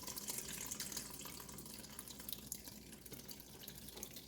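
Water from rinsed salmon roe drains slowly out of a bowl in a soft, continuous trickle with light drips, faint and close, with no voices.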